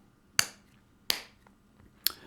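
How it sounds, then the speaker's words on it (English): Three sharp, isolated hand claps spaced about three-quarters of a second apart, close and crisp in a quiet room, tapping out a rhythm for a songwriting lesson. "if I kind of clap that out, if I kind of put some rhythm to the back of it"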